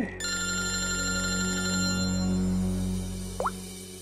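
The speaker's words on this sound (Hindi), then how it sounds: "सर हॉस्पिटल से फोन था" A telephone rings with a sustained electronic bell tone in a quiet room as a hospital call comes in, the ring holding steady for several seconds before cutting off.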